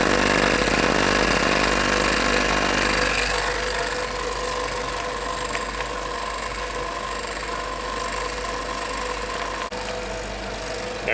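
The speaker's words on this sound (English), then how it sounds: "So we've got the vacuum pump going." A vacuum pump hums steadily beside an ice cream machine, a loud, continuous mechanical drone with a constant pitch that runs unbroken from start to finish.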